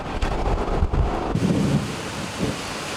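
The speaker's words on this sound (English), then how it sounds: "Oh, and it's raining, yes!" Heavy tropical rain pours down on Isla de Flores, Guatemala, a small island in a lake, as a dense, steady roar with gusty wind buffeting nearby.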